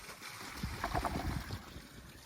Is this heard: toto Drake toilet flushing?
yes